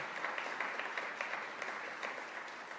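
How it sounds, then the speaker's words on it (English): A crowd applauding a labor council president at a public event with a governor, continuous moderately distant clapping from many hands with slight rhythmic swells. "Let's give him a round of applause"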